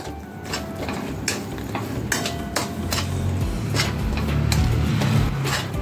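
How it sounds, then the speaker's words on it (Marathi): A spoon scraping and knocking against a pan while stirring a thick khoa and sugar mixture for barfi, a steady run of repeated taps and scrapes, close and continuous, with a faint sizzle underneath. "फक्त व्यवस्थित हलवून घ्यायचे, म्हणजे खाली लागू द्यायचे नाही बर्फीला"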